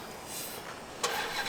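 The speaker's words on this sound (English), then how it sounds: "even the remote start works, but the vehicle can't be moved" A Ford engine cranks via remote start and catches, a brief muffled rumble that jumps in level about two-thirds through, heard from close by with no talk.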